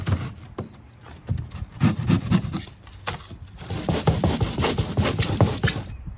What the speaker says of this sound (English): I'm going to cut a bunch of it off, and then I'll use my sander.